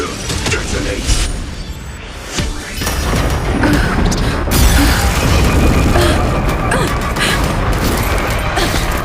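Detonation explosion in the game Honkai: Star Rail, a loud booming crash followed by dense rumbling impact noise that lingers, with game voices and effects layered over it.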